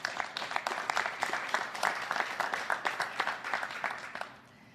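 Thin, scattered applause at an Ontario Liberal political campaign speech, with individual claps standing out as a sparse, uneven patter that fades out near the end.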